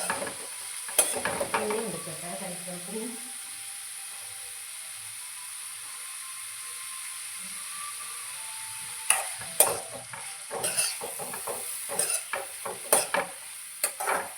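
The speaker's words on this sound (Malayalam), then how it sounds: "നമുക്ക് ഇളക്കി കൊടുക്കാം." A brinjal and egg curry is stirred in a pan, with scraping strokes and clinks around one second, a long quiet stretch, then repeated sharp stirring scrapes and taps from nine seconds onward, close and fairly loud.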